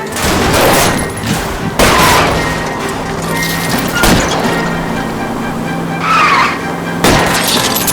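Cars race through a wet-road chase in the LA Noire Remaster video game, with loud tire skids, engine roar, and repeated sharp crashing impacts that recur every couple of seconds.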